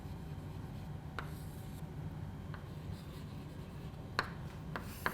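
Marker or chalk scratches across a board in a biology lesson, making short, soft strokes and a few sharper taps over a steady background hum. No one speaks.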